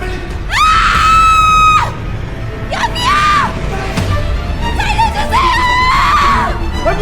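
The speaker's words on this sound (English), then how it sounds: "Sora screamed for help." A woman screams in a tense drama scene, three long, loud, high-pitched cries separated by short gaps, with no other voices over them.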